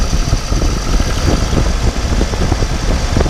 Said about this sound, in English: Okay, so if we look back here, we'll rev it up a little bit.